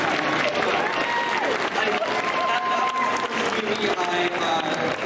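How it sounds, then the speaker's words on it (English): An audience at a Halloween III: Season of the Witch Q&A panel claps steadily for Dick Warlock, a dense, continuous wash of applause with crowd noise and scattered voices mixed in. "Everybody should give Dick Warlock a round of applause for being the greatest Michael Myers of all time."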